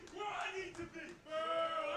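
A live wrestling crowd roars and cheers loudly after a hard chop in the ring, the crowd noise swelling in waves over two seconds with shouts rising out of it.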